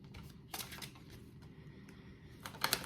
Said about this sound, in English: Trying to shuffle these giant cards.